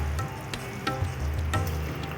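Food frying in a pan on a gas stove during cooking, a steady sizzle with a few sharp scraping strokes of stirring at intervals, close and continuous, no talk.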